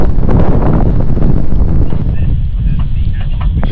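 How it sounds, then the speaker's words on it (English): Strong wind buffeting a sailboat, a loud close roar of gusts against the microphone that eases slightly toward the end. "So the wind's due to build because they were quite strong last night"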